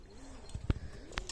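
A racing pigeon settles at its home loft after a hot 240 km race, giving a few soft, low coos with faint wing and body rustles close by in a quiet setting.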